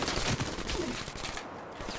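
Dense, continuous automatic gunfire from Black Ops 3 Hardpoint multiplayer, loud and rapid, cutting off abruptly near the end.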